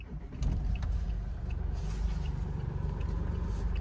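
Mahindra Bolero Neo N8 engine starting: a steady, loud low rumble settles into a continuous idle close by, with no talk over it.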